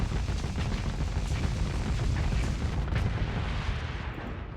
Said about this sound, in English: we're going to use all of our missiles